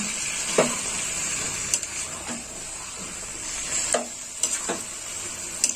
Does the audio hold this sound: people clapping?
no